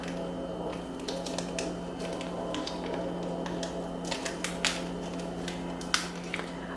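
Crinkly plastic rustling and tearing sounds, with scattered sharp crackles and snaps over a steady low hum, as a small seasoning packet is pulled and tugged at.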